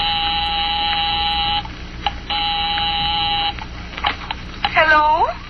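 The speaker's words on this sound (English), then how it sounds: "I'll give 9B a ring first on the house phone." A house phone rings an apartment in a 1949 radio drama, its buzzing electric ring sounding in long bursts separated by short pauses, before voices begin over the line.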